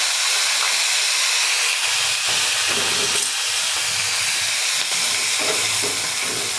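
Fresh green pigeon pea grains hiss and sizzle steadily in hot oil tempered with cumin seeds and curry leaves, a loud, continuous, close frying sound with no talking.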